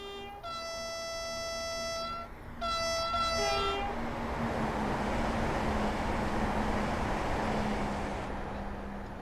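A two-tone train horn blasts twice in Train Simulator 2018 on the North Wales coast, two loud harmonic calls followed by the steady roar of the passing train running on alone.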